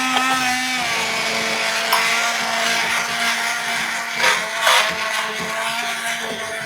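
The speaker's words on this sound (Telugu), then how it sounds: "నేను ఈ హ్యాండ్ బ్లెండర్ కొన్న తర్వాత దీంతోనే చేస్తాను అండి" A hand blender whirs steadily close up as it mashes cooked dal in a pot, with a constant motor hum, grinding and scraping, and a few louder bumps near the end.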